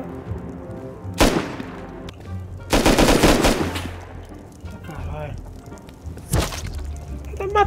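Bursts of rapid automatic gunfire crack out in the video game Rust, with single loud shots between them and a voice speaking underneath.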